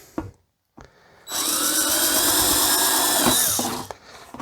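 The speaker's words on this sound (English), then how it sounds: "So I like to use a simple drill." A power drill whirs steadily for a couple of seconds after a few light taps and knocks, then winds down, drilling drainage holes in a flower pot.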